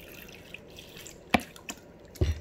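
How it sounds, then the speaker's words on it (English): Water added to a small bowl, heard as a few scattered drips and splashes against quiet room background, close and faint, no voices. "Gonna add water."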